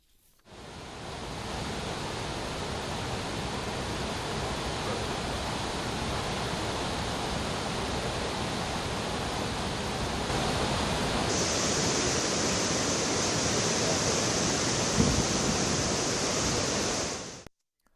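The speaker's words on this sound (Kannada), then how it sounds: "ಅಪಾರ ಪ್ರಮಾಣದಲ್ಲಿ ನೀರು ಹರಿತಾ ಇದೆ" A large volume of floodwater rushing into a dam during heavy monsoon rain, a loud, steady, broadband roar that continues unbroken throughout.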